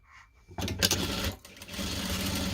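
A sewing machine stitches the strap onto a small fabric bag, starting after a quiet moment with a brisk, close mechanical whir that pauses briefly and then runs steadily again.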